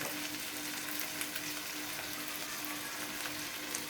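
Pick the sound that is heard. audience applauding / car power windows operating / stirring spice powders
stirring spice powders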